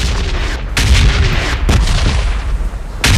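Heavy gunfire and booming blasts from PUBG Mobile in a heavy-weapons mode, sounding as loud, dense bursts with a few sharp breaks, close and with no talk over them.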